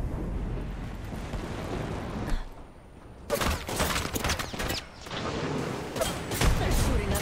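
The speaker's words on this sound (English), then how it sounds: "They're shooting at me." Gunfire in the video game Apex Legends, dense bursts of shots crackling loudly in clusters with a brief lull in between, sounding close and chaotic.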